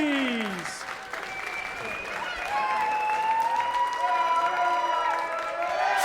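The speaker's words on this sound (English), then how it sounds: "Please give a huge round of applause to your Week 10 champion, David Davies" A crowd at a darts finals night applauds and cheers as the Week 10 champion is crowned, a steady wash of clapping heard under music and an announcer's voice.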